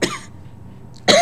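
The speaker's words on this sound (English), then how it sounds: "as usual I start coughing as soon as I start doing these blogs" A man coughs twice, a harsh close burst at the start and another sharp throaty cough about a second later, separated by near silence.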